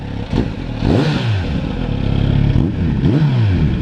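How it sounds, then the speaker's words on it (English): A stock Kawasaki Z900RS motorcycle exhaust blips and revs several times up close, its pitch rising and falling in quick throaty bursts. "the sound that is coming out of that pipe for a stock motorcycle"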